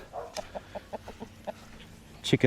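Chickens cluck in a quick run of short, close notes, followed by a louder squawk at the end.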